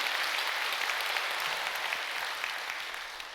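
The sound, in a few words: audience applause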